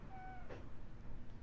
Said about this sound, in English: Indecisive kitty cat.